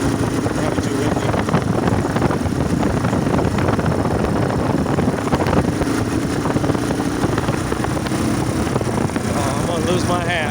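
Cold outdoor wind buffets the microphone at around freezing temperature, a steady loud rumbling roar that continues without letup for the whole stretch.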